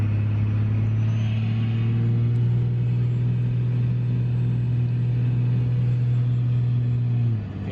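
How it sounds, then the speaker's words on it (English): A 2004.5 Cummins diesel truck with new Flux 130 HP injectors and an S400 turbo drives along, its engine giving a loud, steady low drone throughout, then easing off right at the end. "We are taking the truck for the first drive."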